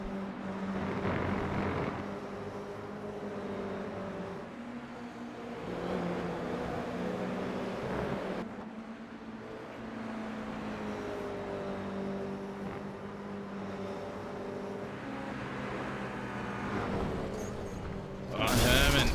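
Damaged Toyota GR86 race car in an iRacing sim race at Lime Rock Park, its engine droning and revving steadily with rattling mechanical noise, rising and falling across the stretch with no voice over it.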